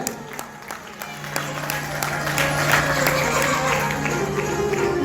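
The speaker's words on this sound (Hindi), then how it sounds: "एक बार जोरदार ताली आवाज चाहिए।" Audience applause at a Holi celebration gathering, steady clapping that grows louder partway through and holds under a continuous low hum and crowd murmur.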